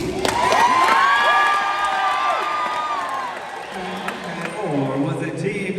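An audience applauds and cheers to vote for Team Pete after a dance-moves contest: loud crowd whoops, shouts and children's high-pitched yelling over steady clapping, easing briefly before swelling again.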